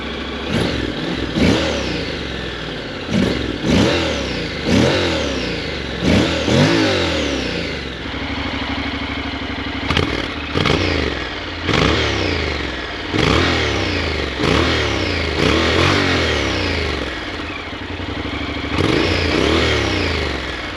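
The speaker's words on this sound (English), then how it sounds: "let's get it started and see how she sounds. Make sure it's a neutral, of course." A 2025 Honda NC750X motorcycle engine runs in neutral, revved loudly in about a dozen repeated bursts, each rising sharply and falling back to idle, close and strong throughout.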